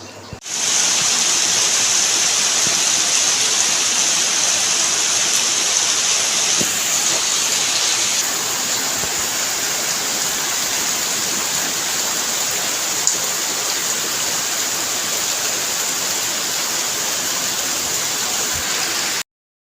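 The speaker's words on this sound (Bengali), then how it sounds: "প্রচুর বৃষ্টি হচ্ছে দেখো" Heavy rain pours down in a continuous, dense hiss that holds steady throughout, close and loud, with no voices over it.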